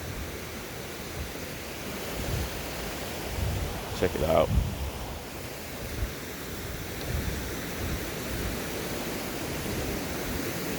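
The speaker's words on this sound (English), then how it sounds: "Probably hear the water. It's so peaceful." Continuous rushing water fills the scene like surf or a fast stream, with a short spoken phrase and a brief knock midway.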